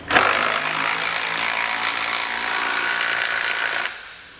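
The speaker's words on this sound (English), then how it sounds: "I'll take 3/4-inch socket and snug everything down." Power tool with a 3/4-inch socket snugging down trailer hitch hardware on a 2015 Toyota Sienna, one continuous loud whirring burst lasting several seconds, then stopping abruptly.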